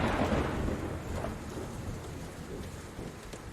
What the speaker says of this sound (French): nous allons parler d'orage, de foudre, de tonnerre